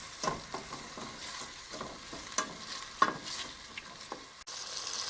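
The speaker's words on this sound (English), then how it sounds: "See, the tomatoes are cooking nicely. Keep stirring." Tomatoes sizzle steadily in a hot pan for cauliflower pasta, with a spoon scraping and stirring in repeated short strokes over the continuous frying hiss, close and moderately loud.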